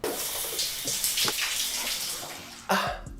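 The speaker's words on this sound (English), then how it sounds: "What a gorgeous shower that was." Shower running water, a steady close hiss of spray that surges into a louder gush near the end.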